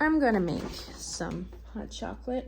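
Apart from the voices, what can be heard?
No everyday noise stands out behind the speech.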